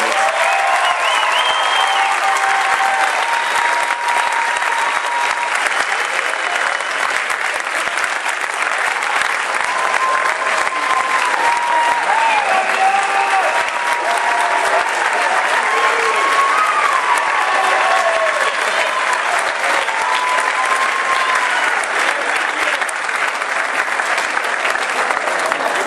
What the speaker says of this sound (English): Can we have another big round of applause for all things student athletes?